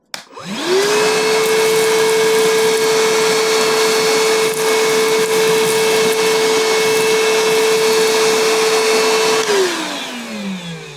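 An Evolution vacuum sucking up sawdust: the motor spins up quickly into a steady, loud, high whine that holds for about nine seconds, then winds down. No voices are heard.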